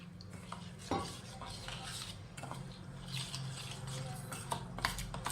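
Fenugreek (methi) is stirred into cooled milk in a pot while making methi laddu. A spoon scrapes and clinks against the metal pot in a continuous, close, moderately loud sequence.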